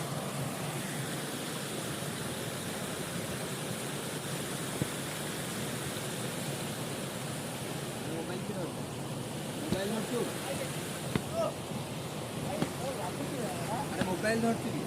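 A waterfall of cold water gives off a steady, continuous rushing roar throughout, with people talking over it.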